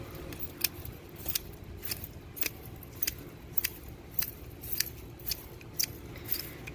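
Scissors snipping through salvia plant stems in a garden bed, a steady series of about a dozen sharp, close cuts at a regular pace with no talking.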